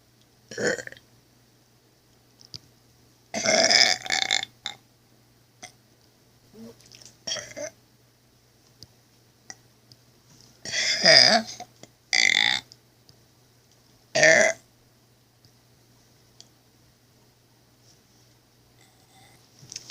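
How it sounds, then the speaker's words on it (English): A person lets out a string of loud, drawn-out burps, several separate belches spaced across the stretch with quiet gaps between them and no talking. "Another burping video."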